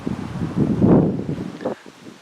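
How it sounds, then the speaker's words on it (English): Wind gusting outdoors at a railway station in Lancashire, a loud rumbling buffet against the microphone that swells in the middle and drops away sharply near the end. "The wind's getting up a bit."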